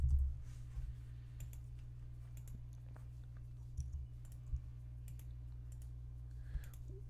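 Keys tapped on a computer keyboard in quiet, irregular bursts of close, soft clicks over several seconds, with a few sharper taps standing out.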